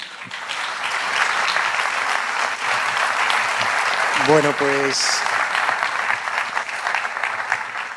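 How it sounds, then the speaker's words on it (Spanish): Sustained audience applause at a TED-style talk event, steady dense clapping across the hall at even loudness, with someone briefly speaking over it midway. "Un aplauso."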